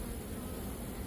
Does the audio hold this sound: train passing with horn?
no